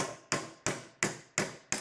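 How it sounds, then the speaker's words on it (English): Six sharp metallic hammer strikes knock at a U-joint pin on an axle shaft, evenly spaced about a third of a second apart, each ringing and decaying before the next. "and then I like to take the hammer"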